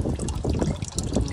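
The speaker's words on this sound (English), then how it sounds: "oil is now dripping" Motor oil dripping and trickling from a just-loosened oil filter on a 2016 Ford Mustang GT during an oil change, a close, fast patter of liquid splashing in quick irregular drops.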